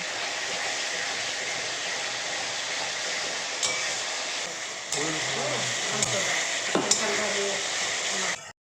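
Spice paste fries in oil for a desi chicken curry, making a loud, constant hissing sizzle up close, broken by a few sharp stirring scrapes and knocks against the pot before it cuts off abruptly.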